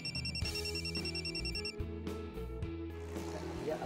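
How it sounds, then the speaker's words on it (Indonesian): A phone rings with a repeating electronic ringtone, steady and fairly loud over a low background music bed, lasting a few seconds before it is answered. "aku boleh angkat telepon sebentar"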